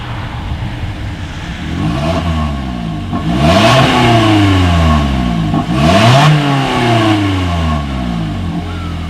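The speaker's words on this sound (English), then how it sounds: "here is that exhaust clip." A 2020 Toyota Corolla's exhaust revs up sharply several times in a row, each rev rising and falling back to a throaty idle, loud and close.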